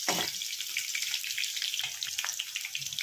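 Okra pieces fry in hot oil in a pan, turned side to side in small batches, giving a steady, close crackling sizzle with a sharp burst at the start and scattered pops throughout, with no voices.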